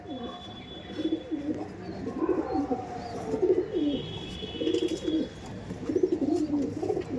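Madrasi tournament-quality pigeons coo in a series of soft, throaty phrases close by, with a faint high tone and a few chirps in the background.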